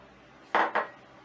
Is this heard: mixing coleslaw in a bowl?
yes